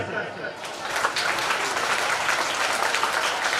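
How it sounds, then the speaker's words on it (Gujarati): An audience claps steadily at a welcoming ceremony, producing dense, crackling applause that swells after a moment and carries on with a voice heard over it. "જોરદાર તાળીઓના ગડગડાટથી"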